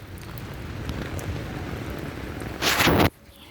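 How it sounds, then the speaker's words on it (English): Heavy rain pours steadily and close by, a dense hiss that swells sharply louder for a moment near the end before cutting off to a quiet hush. "And then it just started raining."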